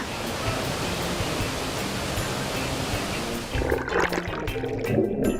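A strong waterfall at Pinamo Falls in Biliran roars as a dense, constant rush of water, shifting toward closer splashing near the end with faint voices mixed in.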